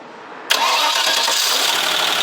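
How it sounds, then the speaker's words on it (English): A Land Rover Discovery 2 engine cranks and fires about halfway through, then settles into a steady, loud idle close by. There is no talking. "Just start it briefly."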